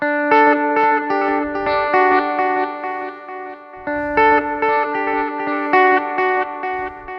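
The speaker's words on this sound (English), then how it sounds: "I might have my echo level a little high on the Volante" Electric guitar played through Strymon Flint and Volante echo effect pedals, loud sustained chords and notes with washy repeats and a reverberant tail, heard alone with no talking.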